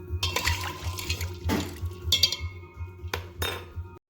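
Mushroom soup stirred in an Instant Pot, with a spoon scraping and clinking against the metal inner pot in a few uneven strokes over a steady low hum, close and moderately loud.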